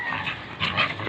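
A dog whimpers and makes soft vocal noises up close in a brief, restless burst.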